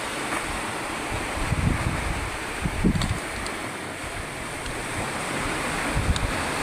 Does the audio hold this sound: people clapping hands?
no